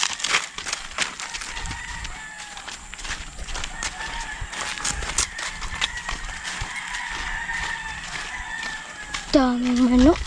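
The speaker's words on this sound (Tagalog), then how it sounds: "daming manok." Chickens cackle and cluck around a rural yard, with a rooster crowing in a long drawn call near the end; people talk quietly in the background.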